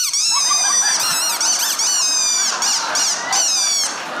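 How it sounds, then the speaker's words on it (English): A dog's squeaky-toy squeaker is worked in a series of loud, close, high-pitched squeaks, some long and bending in pitch, coming in quick bursts one after another with no talking. "With this squeaker in your mouth, you now have the ability to make anything you want squeak anywhere you go."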